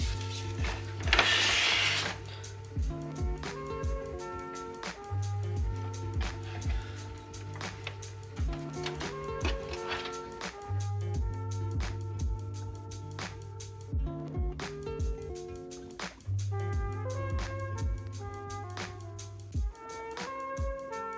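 A sewing machine stitches a cushion in repeated runs, its motor whirring in steady buzzing bursts with brief pauses and clicks between them, close and fairly quiet.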